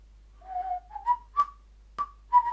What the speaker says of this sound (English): we have a whistling sound here